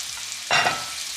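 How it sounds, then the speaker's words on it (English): Vegetables drop into a hot pan of pulpy tomato and onion tadka, setting off a sudden loud sizzle that flares up close and then settles into a steady frying hiss. "So that's when I add all the veggies."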